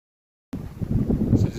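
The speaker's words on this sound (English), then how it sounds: "it's pretty windy out" Wind buffeting a microphone on a blustery day by Matsushima Bay, a sudden low rumbling roar that starts after a moment of silence and gusts unevenly, loud and close.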